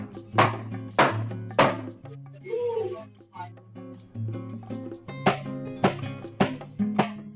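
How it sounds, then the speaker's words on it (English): Construction work right outside an apartment's windows: repeated sharp banging impacts at irregular intervals, fairly close and loud, with a brief whine-like tonal passage and low mechanical rumble between hits. "construction is happening right outside my windows"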